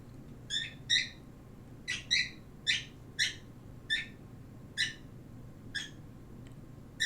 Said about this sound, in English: he's chirping a lot to be with, he just sounds really curious